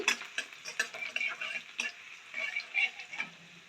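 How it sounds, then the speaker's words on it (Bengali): Onion frying with dried chilli in a pan, quiet sizzling punctuated by light rhythmic scraping and tapping from stirring. "দেখো ভাজা ভাজা হয়ে গেছে পেঁয়াজটা আমার"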